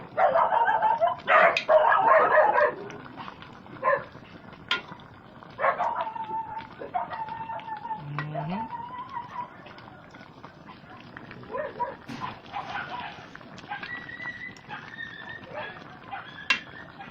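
A dog barks in a few sharp bursts close by, followed by scattered yips and quieter noises with occasional voices.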